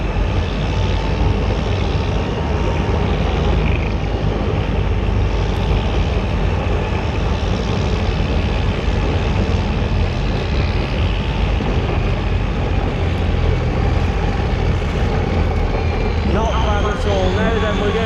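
Military vehicles drive and manoeuvre at an outdoor show, giving off a dense, continuous engine rumble and broad mechanical noise at steady loudness, with a voice talking over it.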